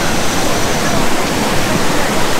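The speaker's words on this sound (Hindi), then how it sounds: "तो मंदाकिनी रिवर के ऊपर हूँ मैं, मंदाकिनी नदी है यहाँ पे।" The Mandakini River rushes beneath Rambara Bridge on the Kedarnath trek, a loud, dense, unbroken roar of fast white water heard up close.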